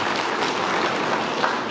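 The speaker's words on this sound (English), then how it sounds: "So just a round of applause for those who came in from wherever you came in from." Conference audience at a women in agribusiness event on the Copperbelt gives a round of applause, a dense continuous wash of many hands clapping at steady loudness through the whole short stretch.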